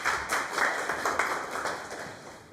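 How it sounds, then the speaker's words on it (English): Applause from a business conference audience after a talk, a smallish group clapping in loose, moderately loud bursts that thin out over a couple of seconds. "Let's give a round of applause for Paulius."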